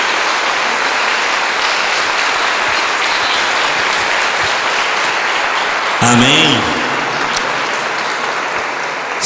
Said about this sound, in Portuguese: as palmas foram para Juliana, foi muito